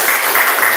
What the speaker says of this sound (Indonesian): Tepuk tangan juga untuk kelompok 3.